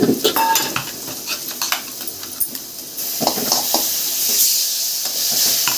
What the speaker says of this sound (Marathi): आता थोडं पाणी घालून हे मिसळून घ्यायचं आणि हे पण त्याच्यामध्ये टाकायचं.